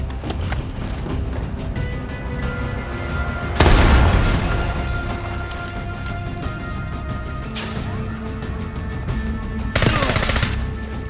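Sustained automatic gunfire from a Call of Duty: Black Ops 6 campaign firefight, broken by two loud grenade blasts, one near the start and a shorter one near the end, with dense rattling shots continuing between them.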